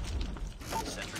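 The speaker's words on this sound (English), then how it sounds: "Sentry gun deployed." A sentry gun in a Call of Duty game unfolds into position with a short mechanical creaking and ratcheting whir, brief and fairly quiet, with game voice audio overlapping.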